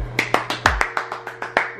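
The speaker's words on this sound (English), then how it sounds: "applaud her" Steady applause in an even rhythm: about a dozen sharp, separate hand claps, close and fairly loud, over a low constant hum, with no talking heard.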